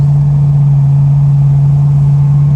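Steady, low droning exhaust hum of an LS-swapped 6.0-litre LQ4 V8 in a 1973 Firebird with Flowmaster Super 10 mufflers, constant and loud throughout with no revving.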